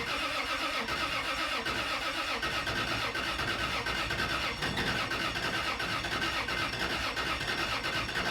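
A car engine starts up and runs as a steady, rough mechanical drone that stays fairly loud and even throughout, with no talking.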